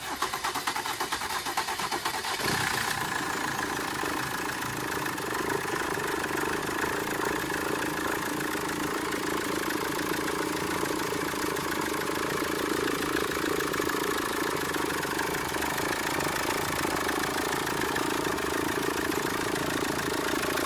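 A Foton Toplander diesel engine starts with a brief burst, then settles into a steady, continuous idle that runs on evenly and fairly close, with no talking over it.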